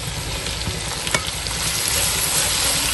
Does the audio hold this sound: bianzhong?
no